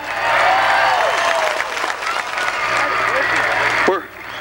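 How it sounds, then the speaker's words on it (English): Loud crowd applause and cheering at Columbus Motor Speedway for a race driver, dense and steady for about four seconds with a few voices shouting through it, then cutting off sharply near the end. "how about a big round of applause, Michael Waldrop?"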